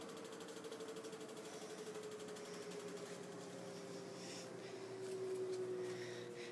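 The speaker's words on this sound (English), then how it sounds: "We are standing here, listening to the washer in its spin cycle." A washing machine hums steadily through its spin cycle, a low drone with faint mechanical rattling against the cabinet, at moderate volume and rising slightly toward the end.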